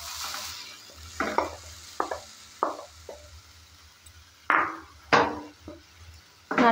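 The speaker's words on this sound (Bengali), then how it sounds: "নারকেলটা কিছুক্ষণ সময় নিয়ে ভালো করে একটু নেড়েচেড়ে ভেজে নেব।" Grated coconut is stirred and dry-fried in a heated wok, giving a series of close, sharp scraping strokes at irregular intervals over a faint background sizzle.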